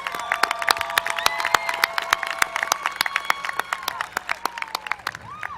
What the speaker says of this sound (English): Let us all give them an applause.